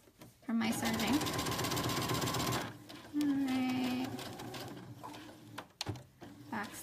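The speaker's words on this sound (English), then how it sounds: "So I'm going to end my stitching right where that hole is from my serging." Sewing machine stitching knit fabric for joggers, running in two bursts of fast, even mechanical whirring, the first about two seconds long, the second shorter, with a pause and a person talking between.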